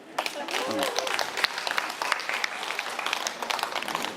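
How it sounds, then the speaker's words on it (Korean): Applause from a seminar audience at a photography event, a scattered and uneven patter of clapping hands with a voice briefly audible near the start. "저 사진예술 대표님을 위해서 박수 한번 쳐주세요."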